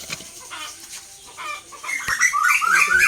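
Chickens cluck and birds chirp outdoors, near and fairly loud, with busy overlapping calls that grow denser and higher toward the end, with no talking.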